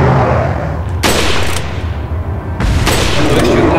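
Two loud, sharp gunshot bursts in the video game Resident Evil 4 ring out about a second and a half apart, each with a brief crackling tail over a low background rumble.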